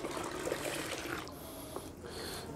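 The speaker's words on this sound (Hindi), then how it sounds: "इसमें जो है हम एक दो लीटर पानी और मिला देंगे इसको बिल्कुल नीचे तक" Water poured into a container of slaked lime, a steady, fairly faint trickling and splashing pour that shifts in tone partway through.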